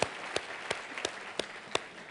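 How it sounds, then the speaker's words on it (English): A church congregation claps together in slow, evenly spaced beats, six distinct claps heard fairly faintly at a distance. "We clap, we clap, we clap, we clap."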